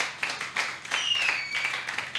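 Clapping and applause from a church congregation during worship, a run of brisk hand claps with a brief tonal accent partway through, moderately close and sustained.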